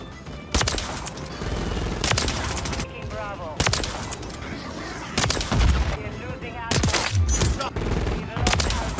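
Longbow rifle in Modern Warfare 3 fires in loud repeated bursts of gunfire, several volleys spaced through the clip with brief pauses between them.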